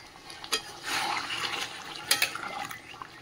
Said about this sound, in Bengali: এবার আমি জল দিয়ে দেবো। জলটা আমি গরম জল করে রেখেছিলাম, এই যে গরম জল দেবো